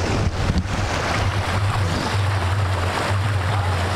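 Rushing river water pours over rocks at a bathing spot near Jabalpur, a loud, steady broadband roar with wind buffeting the microphone, continuous and close throughout with no voices.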